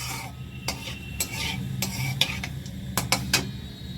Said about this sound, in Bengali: এরপর এই তেলের মধ্যেই আমি অল্প করে চিনি দেব।